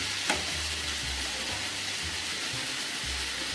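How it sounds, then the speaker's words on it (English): Garlic and spinach frying in olive oil in a pan, a steady broadband sizzle running throughout with a brief clink near the start and low rumbling underneath, no voices. "And then I'm going to put the garlic in and cook that off."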